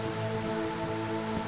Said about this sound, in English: Why is it fucking raining?